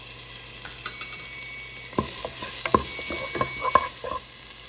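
Onion frying in garlic butter in a hot pan, giving a steady close sizzle with a few clinks and scrapes of stirring and no talk.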